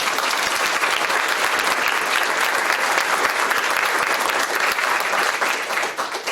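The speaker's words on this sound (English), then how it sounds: "let's give them a huge round of applause" A crowd claps loudly and continuously for elementary school contest participants, dense applause filling the room and tapering slightly at the end.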